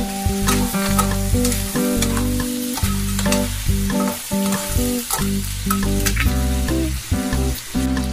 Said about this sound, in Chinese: 然后我们将红辣椒也倒下来继续翻炒，将辣椒也炒出辣味。